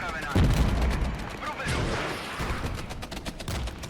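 Battlefield gunfire in the wargame Regiments, with a heavy boom early on followed by scattered rifle and machine-gun shots, crackling at middle distance under a speaking voice.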